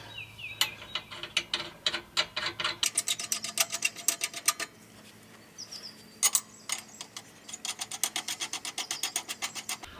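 Ratchet wrench tightening trailer suspension bolts, bursts of rapid metallic clicks in quick runs with short pauses between, close and distinct.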